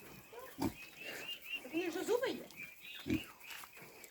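Piglets grunt and squeal close by, a cluster of snorting, rising oinks in short bursts, with a person speaking quietly among them.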